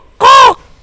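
A human voice imitates the harsh caw of a black crow: one loud, nasal, sustained call lasting about a third of a second, close and dry, with silence before and after.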